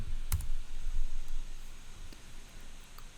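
A single sharp computer mouse click lands early on, while coding blocks are set up in the Entry editor; the rest is quiet room hiss.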